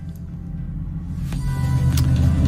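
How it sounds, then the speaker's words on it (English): A truck rolling past, a low rumbling engine growl that swells steadily louder over a couple of seconds as it nears, with a faint brighter hiss above the rumble. "Not a bitch of a time hearing that truck"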